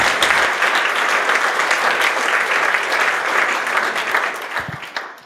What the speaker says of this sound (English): Give him that warm applause